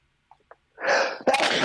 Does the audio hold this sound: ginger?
no